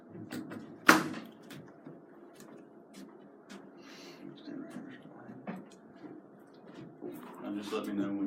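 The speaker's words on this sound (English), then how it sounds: "I'll shut that door." A door is shut once in a quiet press-conference room, giving a sharp, close bang near the start, followed by soft shuffling and murmured speech.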